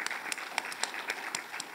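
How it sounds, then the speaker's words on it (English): A conference crowd applauds the sponsors with a steady patter of many hands, moderately distant and fairly soft, continuing without pause and without voices. "So big round of applause for them."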